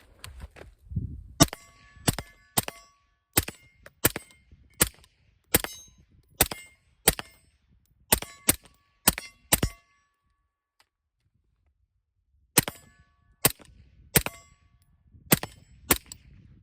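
A suppressed rifle fitted with a traditional baffle stack suppressor and an H2 buffer fires a steady string of about twenty sharp, ringing shots, clustered in two bursts split by a few seconds of silence, each crack close and loud.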